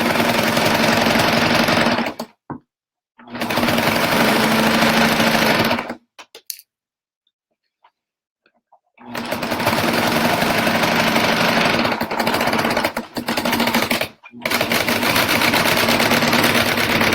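Loud, rapid mechanical chatter of a sewing machine stitching through the layers of a burp cloth, running in long bursts separated by short pauses and one longer silence.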